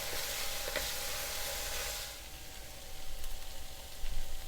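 Onions and garlic sizzling steadily in a pan over low heat as the onions soften for a beef bourguignon, a continuous close hiss with occasional crackles and a faint stirring scrape.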